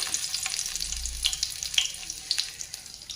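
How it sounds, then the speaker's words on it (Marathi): Fish frying in a pan with garlic, a brief, quiet sizzle with crackling, watery spatter. It sounds close and gentle, with no one speaking. "तर आता आपण फ्राय करायला घेऊ मस्त"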